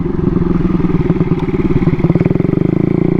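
A Honda Ruckus scooter under hard full rear braking, its small engine loud and close with a pulsing, rattling drone and clattering throughout, no voices.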